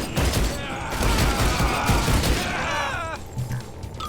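Bursts of rapid gunfire and crashing impacts from the 2013 Rise of the Triad shooter game, loud and dense for several seconds before tapering off into quieter game sounds.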